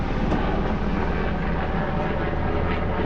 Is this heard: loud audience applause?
no